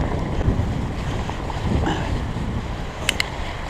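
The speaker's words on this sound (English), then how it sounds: "You can hear Current River. You guys hear that? So with all the snow and rain, it's raging." Swollen Current River, raging after snow and rain, rushes as a steady broadband roar heard at night in the woods, with wind buffeting the microphone and a couple of faint high clicks near the end.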